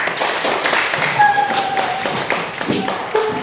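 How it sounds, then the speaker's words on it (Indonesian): Students in a classroom clap for a presenting group, a short run of fairly brisk, uneven hand claps from a modest number of people, close by with faint voices mixed in. "Sekali lagi tepuk tangan untuk kelompok 3"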